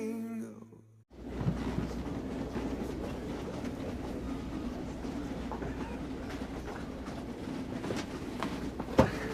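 After a brief quiet moment, a train rumbles past at a distance with a steady low roar and faint rattling, persisting evenly with a sharp click near the end.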